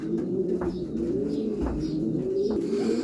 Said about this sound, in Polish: gołębie wchodzą do środka